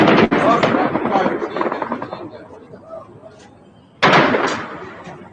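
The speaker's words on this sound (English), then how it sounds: "More gunshots." Sharp sudden bangs cut through busy, noisy footage, with a loud burst near the end; sounds like gunshots amid rough background clatter.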